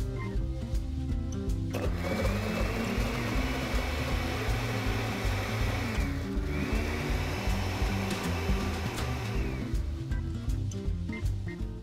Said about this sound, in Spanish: lo que hacemos es licuar.